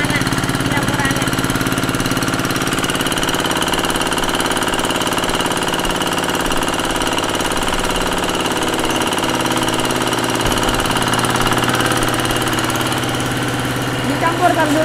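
Steady, loud drone of a mixing machine's engine running continuously and close by, a rough mid-pitched idle-like rumble with a faint voice underneath.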